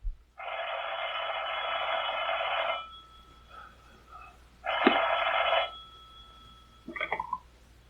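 An old telephone bell in a 1932 mystery film rings in two long bursts, followed by a brief, fainter clicking ring, heard alone over a low hum.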